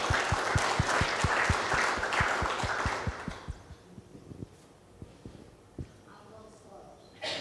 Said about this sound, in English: let's give Sandy a round of applause as she's coming forward